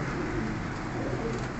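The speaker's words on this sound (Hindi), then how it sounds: "ये नीलदुमा कबूतर है जी" A blue-tailed (neeldum) pigeon in a Faisalabad loft coos softly, the low murmuring calls sitting in a steady, hissy background without speech.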